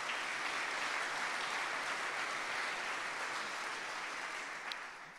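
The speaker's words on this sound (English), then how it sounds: "Can we give him a round of applause?" An audience at an inspirational talk gives a round of applause, a steady wash of clapping that sounds somewhat distant and fades slightly toward the end.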